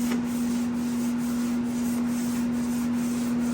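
A power sander works steadily on the body of a 1985 Jeep CJ7 during restoration, a continuous close rasping hiss with a strong motor whine throughout.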